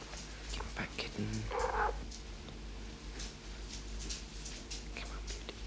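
A kitten purrs softly and steadily at close range, with quiet whispery voices and faint rustling over the low rumble.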